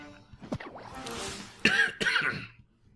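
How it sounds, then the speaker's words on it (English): A person coughs and clears their throat in several harsh, close bursts, with a louder pair of coughs near the end and no speech. "I apologize if I'm coughing and coughing all over the place during this video"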